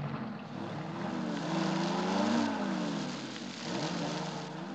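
A jeep engine runs steadily with a low, droning motor tone that swells slightly in the middle, close and continuous with no talk.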